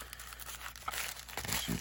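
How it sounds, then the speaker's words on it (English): Paper wrapping from a Beaver Falls Cutlery single jack pocket knife with an ebony handle, crinkled and rustled in a few soft, irregular bursts, close up and fairly quiet, with no voices. "This is paper that the knife comes in."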